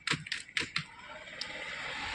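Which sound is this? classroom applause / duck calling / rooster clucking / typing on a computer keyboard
typing on a computer keyboard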